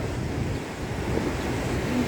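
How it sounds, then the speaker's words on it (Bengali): Steady, dense roar of heavy rain mixed with gusting storm wind in Dubai, loud and continuous throughout with no voices. "অনেক বৃষ্টি তুফান হচ্ছে আজকে দুবাইতে"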